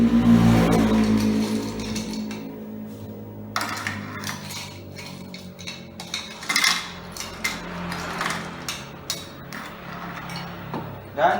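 Ice cubes are dropped onto a plate for a chemistry practical on exothermic and endothermic reactions, making a run of irregular, close clinks and clattering knocks after a muffled opening.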